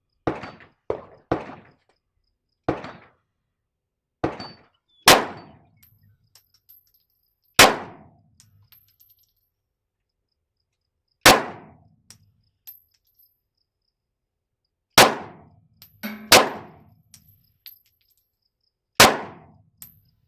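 Gunshots at an outdoor range ring off steel targets, about a dozen sharp cracks with metallic clangs, spaced irregularly over twenty seconds, some in quick pairs, each decaying into brief ringing.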